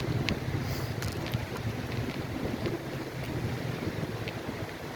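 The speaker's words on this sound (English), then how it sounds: "I'm bicycling into about a 2 mile per hour headwind" Heavy wind buffets the microphone while someone bicycles into a light headwind on a beach at low tide, a continuous low roar and rumble with no speech.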